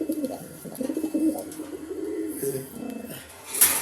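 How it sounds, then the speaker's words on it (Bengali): A pair of Lowry pigeons coos softly in short repeated rounded calls from close by, with a brief higher chirp near the end. "এক জোড়া লাউরি"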